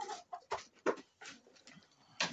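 Broody hens cluck softly in short, irregular bursts, a few low murmuring calls close by in an otherwise quiet setting.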